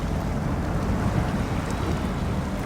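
A truck in the video game SnowRunner churns through deep water, a steady rushing wash of sloshing water and low engine rumble filling the whole clip.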